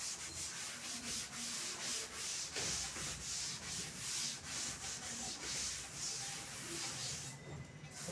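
A board is rubbed clean of writing with rhythmic back-and-forth scrubbing strokes, close and steady, each swipe a soft hissing rasp repeating about twice a second, without speech.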